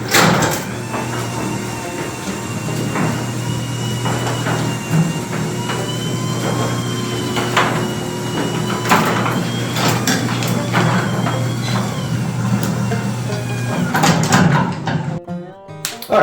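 A garage door runs on its motorized opener at close range, a steady mechanical hum and rumble with scattered rattles and clunks throughout, ending abruptly near the close.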